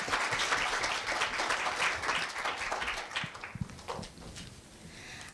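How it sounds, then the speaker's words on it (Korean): An audience at a middle school students' speech festival applauds a student speaker. The clapping starts full and loud, then thins and fades over the last couple of seconds, with no one talking. "큰 박수 부탁드리겠습니다"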